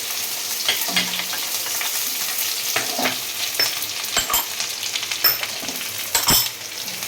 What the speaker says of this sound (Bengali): এরপরে দিচ্ছি পেঁয়াজ কাঁচা লঙ্কা